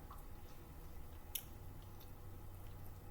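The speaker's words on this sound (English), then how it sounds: "You're getting the crunch from the walnuts." Close, faint chewing of a frozen peanut butter and chocolate treat with walnuts and dates, with soft squishy bites and one brief crisp crunch partway through.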